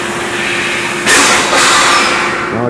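Steel shot blast cabinet blasting waffle irons: a motor hum, then at about one second a loud hissing blast of shot kicks in, briefly dips, and resumes as a steady close roar.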